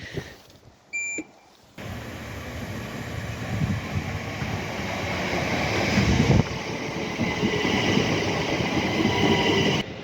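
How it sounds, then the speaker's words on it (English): A train pulls into a London railway platform, a rising rumble of wheels and carriages growing steadily louder and closer over several seconds, after brief beeps and a short quiet stretch at the start. "the train's already coming"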